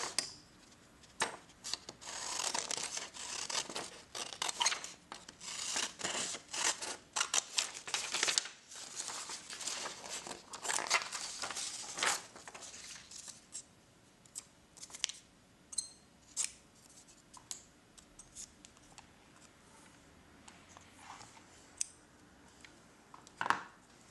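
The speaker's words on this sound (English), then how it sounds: "First, I cut loosely around the template I chose to use." Scissors snipping loosely around a small paper DX code template for a film cassette, a busy run of close, crisp cuts and paper rustling that thins out into sparser snips and handling sounds.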